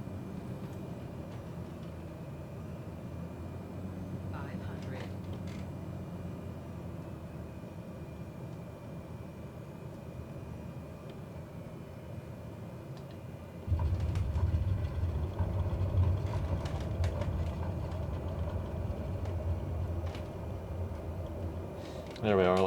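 A steady engine drone from an aircraft held just above idle on final approach in Microsoft Flight Simulator 2020, rising slightly louder partway through as power is added, with a voice talking over it.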